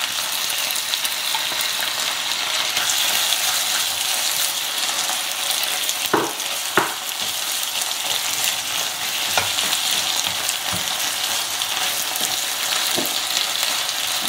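Tomatoes frying with golden onions in a pan for Goan beef chilli fry, a constant loud sizzle broken by occasional clinks and scrapes of a stirring spoon.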